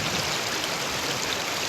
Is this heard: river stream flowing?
yes